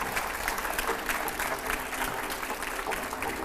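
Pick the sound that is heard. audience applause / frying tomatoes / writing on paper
audience applause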